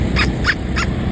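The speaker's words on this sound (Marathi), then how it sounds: "मोर." Three sharp, evenly spaced honking calls ring out, fitting a peacock by a roadside, loud and close over a low background rumble.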